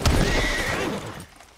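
A single horse in Red Dead Redemption 2 whinnies loudly, a shrill rising-then-falling neigh that fades out after about a second.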